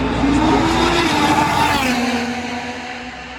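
An IndyCar race car works through the tight hairpin at the Long Beach street circuit, its engine a loud, steady droning whine with shifting pitch that eases off slightly toward the end, heard alone and fairly close.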